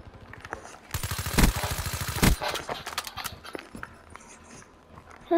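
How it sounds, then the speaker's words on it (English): Rapid automatic gunfire from Call of Duty: Black Ops III, fired in a dense burst with two sharper, louder blasts standing out, then giving way to scattered quieter game noises. "I'm just shooting"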